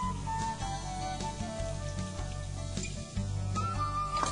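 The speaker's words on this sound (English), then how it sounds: "I'm gonna add some of that fresh tomato." Fresh tomato and papaya sizzling in a hot pan alongside caramelized shrimp, a steady close frying hiss with faint stirring clinks and scrapes, no talking.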